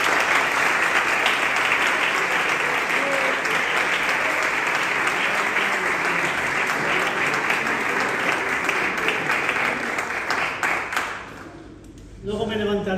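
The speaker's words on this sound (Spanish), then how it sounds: "Con un aplauso recibimos a la palabra." A church congregation claps loudly and steadily to welcome a visiting preacher, a dense sustained applause that fades out near the end as the room settles.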